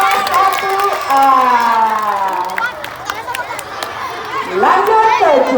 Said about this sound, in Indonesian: Tepuk tangan dulu anak-anak dari kelas 1A.